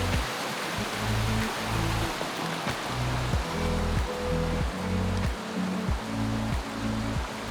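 Small waterfalls on an Arizona creek pour into pools, a continuous loud rushing roar of flowing water close by with no voices, overlaid by a repeating low rhythmic thumping pattern.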